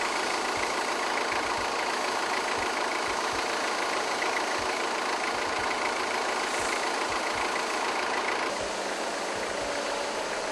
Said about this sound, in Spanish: El cerramiento de la serie Z evita que el ruido de funcionamiento se escape a la zona abierta.